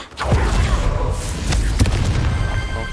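Confringo spell blast in Hogwarts Legacy, a loud booming burst followed by rumbling debris and further thuds, dense and close.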